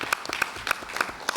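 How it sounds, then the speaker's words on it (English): Scattered claps from a small group of participants at a multi-stakeholder dialogue session, sparse and uneven, several hands striking separately rather than a full ovation, fairly quiet and brief. "Maybe let's just give a round of applause for each other working in those groups"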